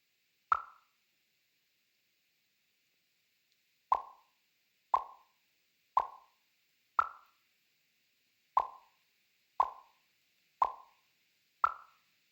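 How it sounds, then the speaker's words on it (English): Nine short, bright pops: one alone, then a pause of a few seconds, then eight more at a steady beat of about one per second, crisp and clean over silence. "the pop sound is not doing its thing"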